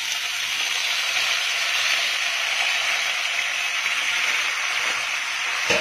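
Steady, close sizzling of hot oil in a frying pan over high heat, cooking longganiza sausage, a continuous crackling hiss that holds at an even level throughout with no talking.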